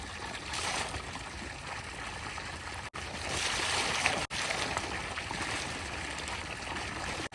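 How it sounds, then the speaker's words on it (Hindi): Running water pours steadily from a tap while someone washes a single hand with soap, a close, even gushing and splashing with two brief cutoffs. "ऐसे धोते हैं सिंगल हैंड से हाथों।"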